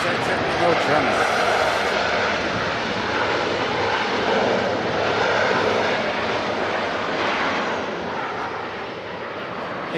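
Engines of a Boeing 777-300ER jet roar loudly at Manchester Airport, a broad, sustained jet rumble and whine that slowly fades toward the end, with people talking over it.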